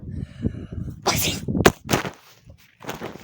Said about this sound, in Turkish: Oğlum hapşırıyor.